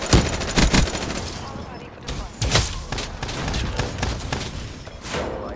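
An FFAR rifle fires in the shooter game Black Ops 3, with several quick bursts of gunfire, close and fairly loud, mixed with game sounds and voices speaking throughout.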